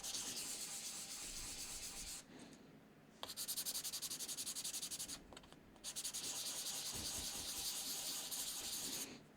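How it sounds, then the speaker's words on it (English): Hand sanding a rough 3D-printed piece made with magnetic iron-filled filament, a continuous close gritty rasp in long back-and-forth strokes broken by two brief pauses. "we're making sure that we're sanding like the entire surface"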